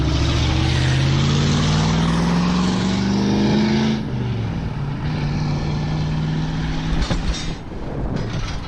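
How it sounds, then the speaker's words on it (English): A loud truck pulling out of a scrapyard rumbles past close by, a heavy low engine drone with rising pitch for several seconds, then fading into a softer rumble and background noise. "Actually, that loud truck just went by"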